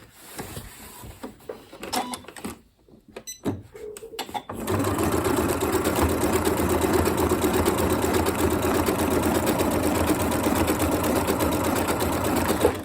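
A Janome Royal sewing machine stitching applique: a few scattered clicks and handling noises, then the motor starts and runs in a steady, close, loud whir for the remaining eight seconds.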